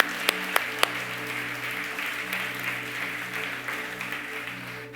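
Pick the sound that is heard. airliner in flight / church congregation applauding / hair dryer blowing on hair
church congregation applauding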